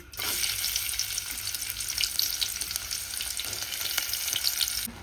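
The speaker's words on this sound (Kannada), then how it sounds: "ನಾನು ಒಗ್ಗರಣೆ ಕೊಡೋಕೆ ಇಲ್ಲಿ ಉಳ್ಳಾಗಡ್ಡಿ ಹೆಚ್ಚಿಟ್ಕೊಂಡಿನಿ ರೀ ಈಗ ಎಣ್ಣೆ ಒಳಗೆ ಹಾಕೊಂಡ್ರಿ" Chopped onions frying in hot oil for a tempering, a steady close sizzle and crackle that runs without pause, with faint stirring.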